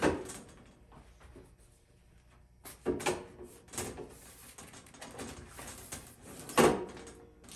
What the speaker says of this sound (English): Slide it open for access on that side.